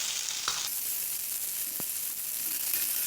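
Chicken pieces and onions fry in a pan for a Chettinad pepper chicken, a continuous close sizzle with a couple of soft stirring scrapes.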